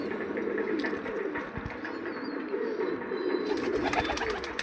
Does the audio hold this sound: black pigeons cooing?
yes